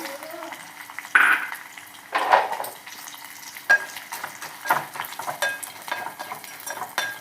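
Peanuts and roasted gram are stirred in a pan with garlic and curry leaves, scraping and rattling in bursts over a soft background sizzle.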